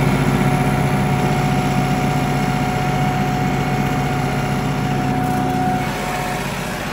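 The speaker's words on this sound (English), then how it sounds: "I can't shut my tractor off because it's regenning" Diesel tractor idling while its exhaust system regenerates, a steady engine drone with a faint whine on top, close and constant, easing slightly in level near the end.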